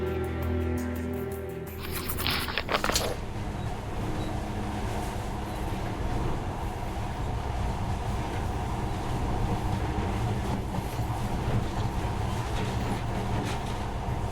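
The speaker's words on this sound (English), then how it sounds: "this monorail seems magic, doesn't it?" A monorail train in the video game Metro Last Light rumbles steadily along the track, a loud continuous rolling roar with a brief sharper burst near the start, heard alone without voices.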